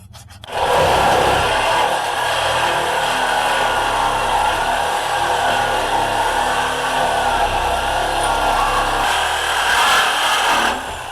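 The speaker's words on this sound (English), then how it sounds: "we're going to fire the saws all up and cut this out of our way" Reciprocating saws cutting through metal on a Ford Ranger during a rock slider install, a loud continuous buzzing rasp that starts abruptly and runs steadily for about ten seconds before stopping, with no talking.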